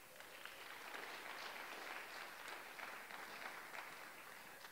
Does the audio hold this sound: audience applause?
yes